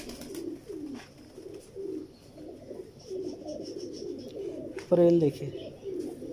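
Fancy show pigeons of the mistri breed cooing in repeated soft, throaty rolls, fairly close, with someone speaking briefly over them and a short high chirp near the end.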